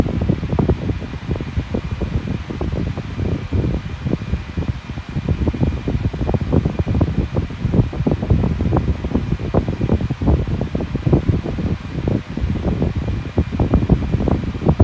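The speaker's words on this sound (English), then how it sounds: "it's a really powerful fan." A Bionaire 16-inch grey pedestal fan runs on its high setting nearby, producing a continuous, powerful rushing of air with constant choppy wind buffeting and a faint steady motor tone underneath.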